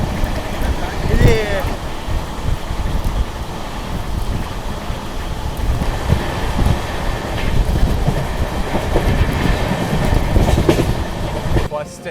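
The Vijayawada–Chennai Pinakini superfast train with an LHB rake runs along, a loud continuous rumble of wheels and carriage heard from on board, with faint voices now and then under the noise.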